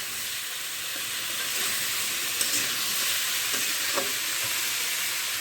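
Ridge gourd pieces giving up water as they fry gently on low heat in a pan, a continuous even sizzle and hiss with a few faint stirring clinks, close by and without talk.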